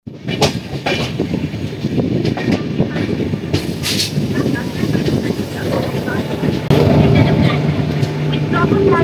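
A train pulls into Kankavli station in the Konkan region, its steady rolling rumble and rail clatter filling the scene, with a sustained tonal drone joining near the end.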